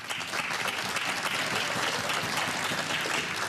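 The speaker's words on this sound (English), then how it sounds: "Encouraging applause." A snooker crowd at the 2017 Scottish Open quarter-final gives steady, warm applause, a dense continuous clatter of many hands that fills the hall for several seconds.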